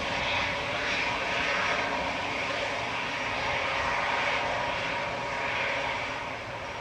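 Aircraft passing overhead at Manchester Airport give a steady, moderately distant engine roar that holds even and eases slightly at the end, with no speech.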